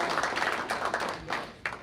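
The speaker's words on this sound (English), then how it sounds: "I think that deserves a round of applause." A group applauds at a school board meeting, with steady crowd clapping that runs throughout at moderate volume and has a few sharper claps standing out.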